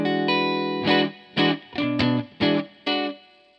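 Clean electric guitar on the neck pickup of a Jackstang, played alone: a sustained chord followed by five bright, separate chord strums, each ringing briefly before the next.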